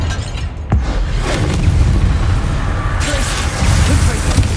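A Confringo blasting spell from Hogwarts Legacy goes off as a sudden deep boom, then a loud, sustained roaring rumble with crackling debris and a hiss rising near the end.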